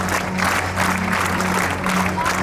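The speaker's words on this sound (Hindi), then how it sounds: "Scout clap go." Students at a school annual function giving a scout clap, a loud, sustained burst of massed clapping from a large crowd with faint cheering mixed in, filling the hall without pause.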